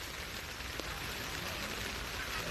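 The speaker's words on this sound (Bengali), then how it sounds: "দেখো বন্ধুরা, ধীরে ধীরে বৃষ্টি পড়ছে।" Steady rain falling over an open field, a dense, even hiss of drops heard outdoors at moderate distance with no voices.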